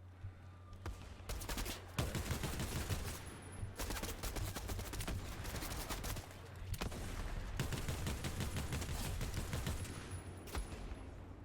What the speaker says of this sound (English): There's somebody in there shooting at me.